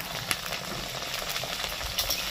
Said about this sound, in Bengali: দিচ্ছি ভেজানো ছোলা, এটাকেও ভেজে নিতে হবে।